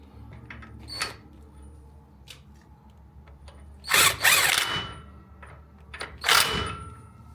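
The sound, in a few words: ratchet loosening and tightening wheel rotor bolt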